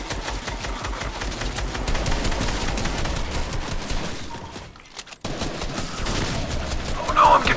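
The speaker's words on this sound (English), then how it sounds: "Oh no, I'm getting shot at!" Sustained rapid gunfire in Fortnite rattles continuously for several seconds, dense and loud, breaking off briefly before another burst resumes.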